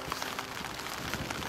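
Steady rain hissing outdoors at Carrowmore, Ireland, a soft continuous patter with faint drops, no voices.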